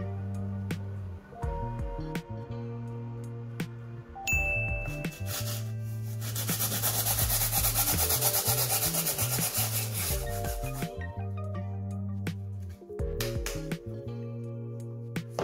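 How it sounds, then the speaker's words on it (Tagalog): A sanding sheet scrubs over dried layers of acrylic gesso on a small canvas, a steady rasping hiss building in the middle and fading, largely masked by loud background music throughout. "So, bawat layer, pinapatuyo natin to, tapos nililiha."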